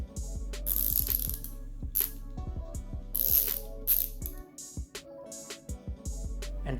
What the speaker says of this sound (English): You can convert this wrench into all three sizes of ratchets with these adapters.